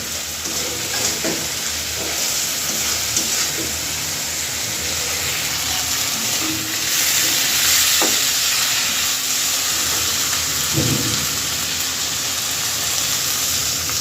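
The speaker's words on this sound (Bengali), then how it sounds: "মাছগুলো দিয়ে ভালো করে মশলার সাথে মাখিয়ে নেব" Pangas fish being stirred and fried in spice paste in a pan, a steady broadband sizzle with scraping stir strokes throughout, fairly loud and close, no talking.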